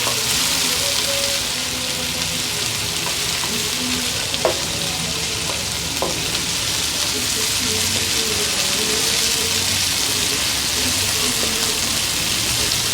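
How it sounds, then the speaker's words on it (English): Fresh garlic and onion frying in a pan for a Guyanese curry, a steady, loud sizzle and crackle running throughout with occasional stirring clicks and scrapes. "I'll give it a minute more to fry and then I'll go ahead and add my pumpkin."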